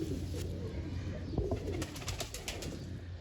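Soft, low cooing of pigeons close by, repeated murmuring calls over a quiet background with a few faint clicks.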